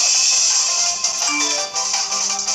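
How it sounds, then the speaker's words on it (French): A smartphone plays a loud notification ringtone: bright sustained electronic tones with shifting pitches that sound alone for a couple of seconds. "je vais couper mon téléphone, sinon je vais recevoir des notifications"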